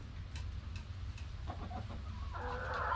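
A rooster clucks softly and intermittently close by, with a steady low rumble of background noise underneath.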